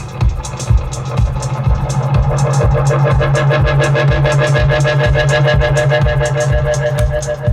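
A Roland Space Echo tape delay plug-in runs at high intensity, giving loud, dense, distorted repeating feedback with a steady pulsing low thump and smeared, swirling echoes that fill the whole stretch.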